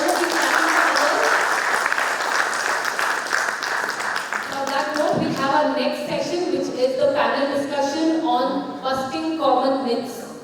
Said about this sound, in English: So please clap for yourself.